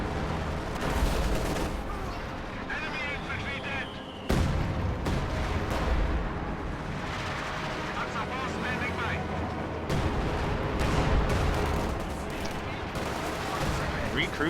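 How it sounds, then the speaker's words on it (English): A LEFH artillery howitzer fires in a WWII strategy video game, heavy booms and blasts amid a steady din of gunfire and battle noise, with someone talking over it throughout. "LEFH is firing on the field gun rather than on the tank."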